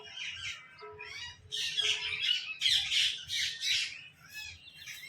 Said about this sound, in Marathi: आज पोपटांची शाळा भरली आमच्या घरी